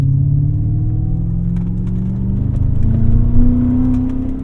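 A 2001 BMW E39 M5 revs while driving, its engine note climbing and holding in a steady rising whir with a deep rumble underneath, close and continuous with no talking.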